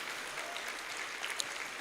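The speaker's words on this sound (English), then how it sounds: "You can give a better round of applause." Renewed audience clapping for the panelists at a Marketplace Millionaires legacy event, a dense continuous patter of many hands at moderate level, with no speech over it.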